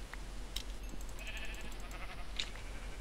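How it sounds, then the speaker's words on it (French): Sheep in Minecraft bleat twice amid a steady game soundscape with faint background tones, moderately loud and unaccompanied by speech. "Ah, il y a du mouton."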